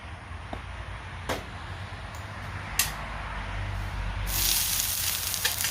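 Onions frying on a hot griddle while cooked down for smash burgers, giving a steady low sizzle with a few sharp scraping clicks that swells into louder hissing near the end.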